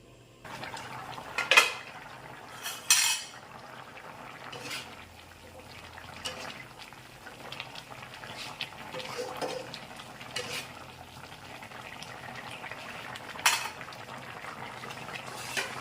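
A metal pot lid clanks shut over eggplant cooking in a Thai pork tongue curry. Several sharp clanks and clinks stand out, with quieter stirring, pan noise and a low simmer underneath.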